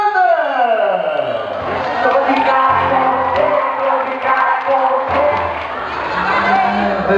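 A concert crowd cheers and shouts for a singer, a loud, continuous mass of voices and excited yells that swells and holds without letting up.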